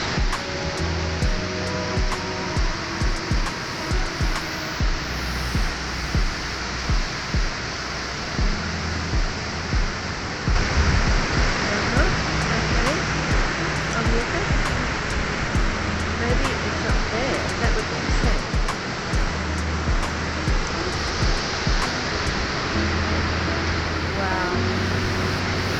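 Ocean waves roll onto the beach at Fingal Head as a continuous broad roar of surf, with faint rhythmic thuds on top.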